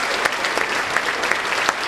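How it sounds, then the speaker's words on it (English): Dense, continuous applause fills a hall at a coronation ball honoring sponsors, with many hands clapping steadily and evenly at full volume throughout. "one more round of applause, if you please, for the sponsors"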